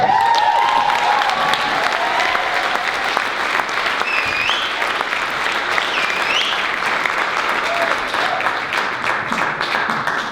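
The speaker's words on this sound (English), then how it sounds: "Big round of applause for Deirdre." A large audience applauds a speaker at a live talk, loud continuous clapping with a few faint cheers and murmurs running steadily throughout.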